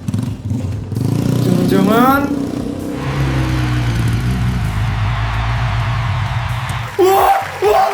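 A motorcycle engine revs loudly at an Indonesian birthday party, a rising whine sweeping up near two seconds and then holding a steady drone, with excited voices and shouts over it throughout.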